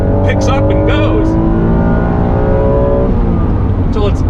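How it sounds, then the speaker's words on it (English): A 1991 Acura NSX engine, naturally aspirated with no turbos, revs up hard after a downshift, its rising tone loud and close throughout, with brief voices over the top. "It just simply the ability to downshift, and it just picks up and goes"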